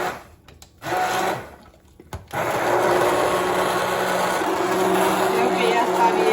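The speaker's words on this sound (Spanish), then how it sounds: "Y ahora vamos a licuar el resto de los elementos." A blender purees leek, carrot and onion for an Indian-style chicken curry. After a few short stop-start pulses it runs in a loud steady whir.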